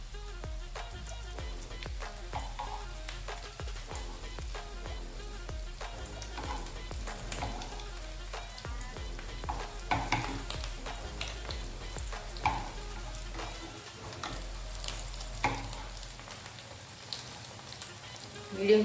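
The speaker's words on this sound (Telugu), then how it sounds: "మీడియం ఫ్లేమ్లో పెట్టుకుని వేయించుకోండి." Bread pieces fry in a pan over a medium flame with a steady, soft sizzle that runs throughout, along with occasional faint clinks and stirring sounds.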